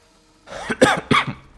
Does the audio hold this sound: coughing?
yes